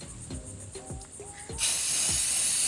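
A few soft taps, then a loud, steady hiss of an aerosol sealant spray over artwork on a shot glass starts and continues to the end.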